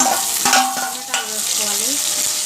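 Onions going into a prawn and brinjal curry and being stirred, with a constant bright sizzle and a few quick utensil taps and scrapes, close and loud, with no voice.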